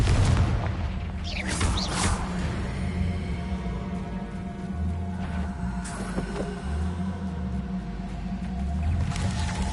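Repeated Confringo blasting spells cast in Hogwarts Legacy: whooshing launches and deep booming blasts recur every few seconds over a low, droning game ambience.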